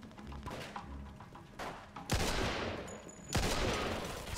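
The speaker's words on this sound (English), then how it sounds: "Get on that machine gun!" Bursts of machine gun fire and heavy shots ring out in a Mafia 2 shootout, a few sharp loud cracks with echoing tails over a busy background, with no speech.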